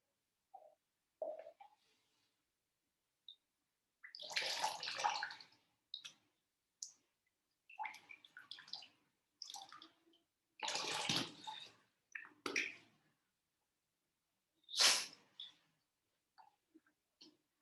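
During jala neti nasal cleansing, water runs out of the nose in short, irregular splashing dribbles and trickles, each lasting under a second or two and separated by silence, close and fairly quiet.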